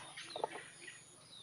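Chickens clucking faintly in a few short soft calls, set against a steady outdoor hum and distant chirps.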